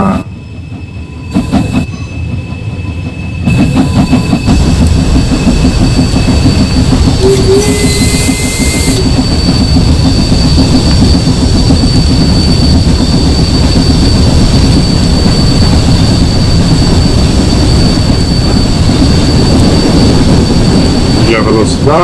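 A train in Train Sim World 4 picks up speed, its loud, steady engine roar and rail rumble building after a brief quieter start, with wheel clatter and squeal running throughout and someone talking over it.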